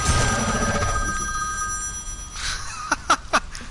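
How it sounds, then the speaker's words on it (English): A phone rings with a sustained electronic trill that fades out, followed by a few sharp clicks and short bursts near the end. "And my phone's ringing."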